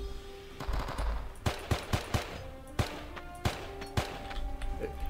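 Gunfire in the World War II shooter game Men of Valor, a series of sharp shots in quick irregular bursts, moderately distant, over a low background hum.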